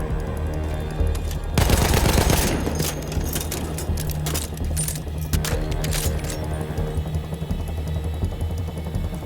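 An MG15 machine gun in Battlefield 1 rattles off bursts of rapid automatic fire, with a heavy sustained stretch early on and shorter bursts after, amid in-game battle noise and no talk.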